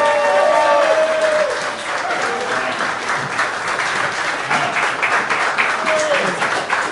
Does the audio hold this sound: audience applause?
yes